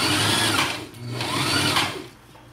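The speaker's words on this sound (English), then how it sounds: "and continue to sew" Sewing machine stitching boy's capri pants: loud close motor whir running in two bursts with a brief slowdown between, then trailing off at the end.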